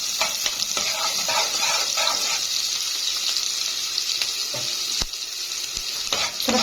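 Onions frying in a pan of traditional ghee for a dried white bean dish, a loud, steady close sizzle and hiss with a few sharp clicks of stirring and no talking.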